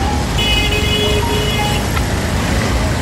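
Busy street traffic beside a line of parked auto-rickshaws on a rainy day in Diva, with a loud, continuous engine rumble, a passing vehicle and a brief high tone like a horn or brake squeal.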